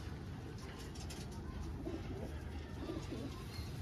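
Soft, low cooing from a pigeon being given eye drops, repeated murmurs faint over a steady background hum.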